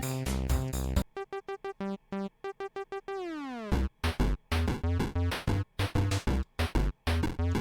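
Shop music from the Moonrover video game plays by itself, with choppy staccato synth chords that stop and start in short bursts, a pitch-bending slide midway, and then a fuller, busier section of clipped notes.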